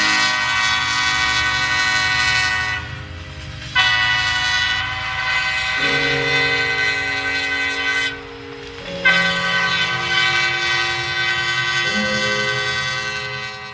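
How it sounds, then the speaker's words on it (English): A freight train led by a pair of SD60E diesel locomotives, hauling manifest cars and auto racks, passes close by with a loud engine drone, its horn blaring in several long blasts that shift pitch between sounds. "A pair of SD60Es, pretty common on this train, leading a cut of manifest and auto racks"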